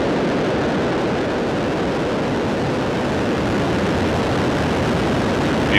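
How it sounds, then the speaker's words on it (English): SpaceX Falcon 9 rocket lifting off from California on the Transporter-14 mission, a loud, unbroken broadband roar holding steady throughout, dense and rumbling with no voices. "Ignition. And liftoff of Falcon 9."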